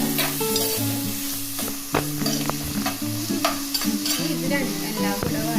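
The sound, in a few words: onion sautéing in oil until brown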